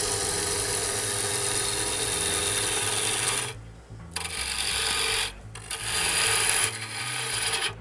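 A 2-horsepower wood lathe turns a large wooden bowl as a gouge takes heavy cuts, giving a loud, continuous rasping and whirring roar that drops out briefly twice before resuming.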